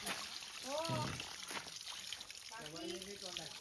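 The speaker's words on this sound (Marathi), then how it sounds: "हे बघा हे पाणी डायरेक्ट वरनं येतं घराचं" Water trickles and splashes steadily from a pipe nearby while people talk over it.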